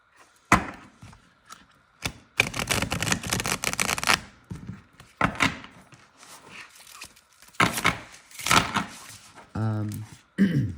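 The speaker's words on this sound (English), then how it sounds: "So they riffle shuffle really easily." A tarot card deck being riffle shuffled, with bursts of rapid fluttering card clatter separated by pauses and handling taps, then a brief zipping cascade of cards near the end; close and fairly loud.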